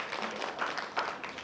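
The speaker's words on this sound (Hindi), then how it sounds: "जोरदार तालियां इनके लिए" Audience at a Buddhist vihara in Khaparkheda, Nagpur, clapping for the women contestants, a soft, continuous patter of many hands heard from a distance.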